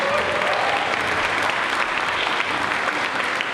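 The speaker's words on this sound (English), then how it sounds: "A round of applause for both of them, please." A school concert audience applauds a tenor and a soloist, with dense, sustained clapping that fills the hall evenly throughout, loud and steady and with no pauses.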